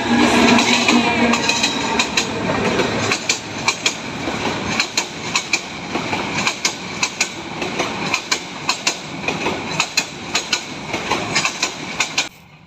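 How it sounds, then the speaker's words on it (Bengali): A train rumbles past close by on a railway track, its wheels beating a loud, regular clickety-clack that grows more distinct and spaced out as the cars roll by. "ট্রেন কিন্তু চলে গেছে।"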